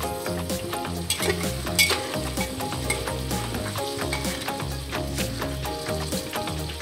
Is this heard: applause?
no